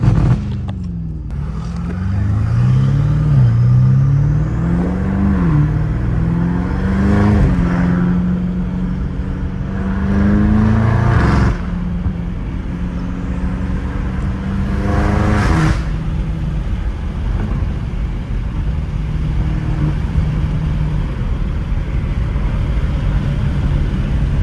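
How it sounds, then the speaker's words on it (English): A BMW M5 Competition engine revs up and down in a sustained, loud drone, with rising pitch sweeps as the turbo spools, and a couple of sharp surges where the revs climb and drop. "I love how I can hit the turbo spool in like all gears."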